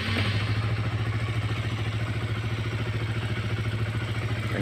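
A modified Honda CB150R motorcycle with full fairing and a semi-carbureted engine runs close by, a loud, steady rhythmic idle throbbing without a break.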